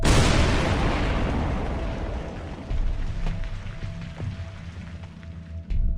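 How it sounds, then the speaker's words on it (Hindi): A loud, broadband boom at the start that decays into a long rumbling tail, followed by scattered debris-like clatter and a few sharp knocks. "तभी एक जोरदार धमाका हुआ।"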